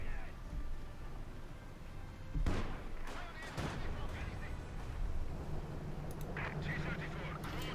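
Field gun artillery fire in the real-time strategy game Company of Heroes 2, with several sharp booming shots and impacts over battle noise, heard beneath continuous commentary.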